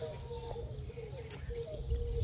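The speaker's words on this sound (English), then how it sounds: "We got a lot of loud birds" Birds chirp and call repeatedly in a home vegetable garden, moderately near, with a steady low background rumble throughout and a louder bright call partway through.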